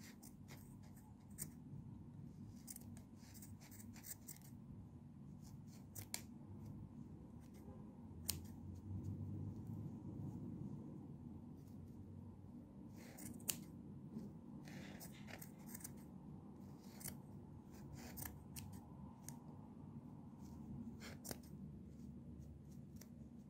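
Scissors snip through wool yarn while a pompom is trimmed: faint, scattered short cuts and clicks over a low steady background, quiet and close, with no one speaking.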